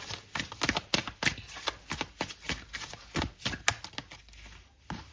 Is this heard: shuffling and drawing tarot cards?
yes